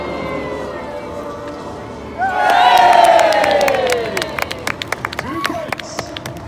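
A crowd cheers for a rider from Australia at a mounted display, the noise swelling loudly for a couple of seconds and then fading into scattered claps.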